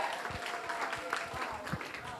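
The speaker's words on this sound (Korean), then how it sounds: "큰 박수로 환영해 주시기 바랍니다" An audience at a Korean school academic festival applauds to welcome a student speaker to the stage: a faint, even patter of many hands clapping at a distance.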